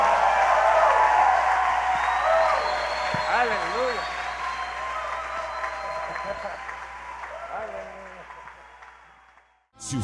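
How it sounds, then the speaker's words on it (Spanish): Applause at a church service answers a call to praise God, a broad steady wash of clapping heard beneath a voice and sustained tones that fade out near the end. "Dale un fuerte aplauso a Dios."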